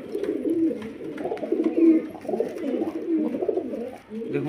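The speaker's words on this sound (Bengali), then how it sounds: "এক পেয়ার বিস্কুট কালার পায়রা দেখুন" Biscuit-coloured pigeons at a pigeon sale coo in a steady, overlapping murmur of soft low calls, fairly close and continuous throughout, with no talk.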